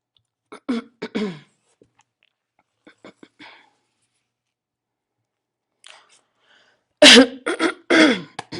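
Sharp throat clearing and short coughs in brief bursts, close and fairly loud, separated by long stretches of near silence.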